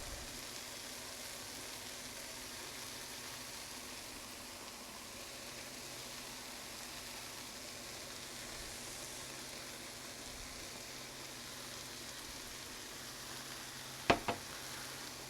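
A mixture of vanilla sugar and brown sugar cooks in a pan with a faint, steady, even sizzle throughout, broken by a couple of quick clinks near the end.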